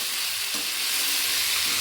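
Grated ginger sizzles in hot tempering oil in a kadhai for a spiced rice dish. The hiss is steady and even, with faint stirring beneath it and no talk.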